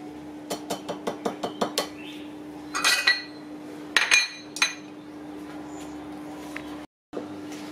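A utensil mixes cake batter in a bowl, striking the rim with a quick series of about eight sharp clinks, followed by scattered scraping knocks and a few softer taps, close up with no talking.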